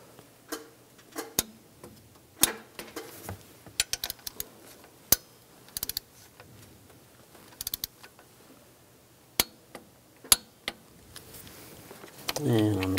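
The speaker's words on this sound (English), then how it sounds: "Tighten those down, and we'll torque these to 37 foot-pounds." Sharp, isolated ticks and clicks from a torque wrench tightening alternator bolts on a 2007-2014 Cadillac Escalade 6.2L V8 come in irregular bursts, close and moderately loud, with a low rumble building near the end.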